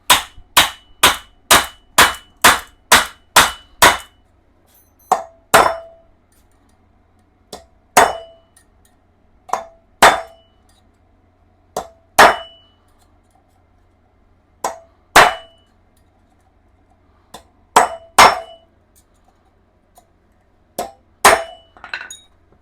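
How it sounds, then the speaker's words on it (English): Sharp metallic clangs from a pipe hammered onto the inner race of a steering stem bearing on a Honda Shadow Sabre 1100 motorcycle: a fast run of about eight strikes, then spaced single and paired hits, loud and close, with no talk. "You want to hit the inner race of the bearing."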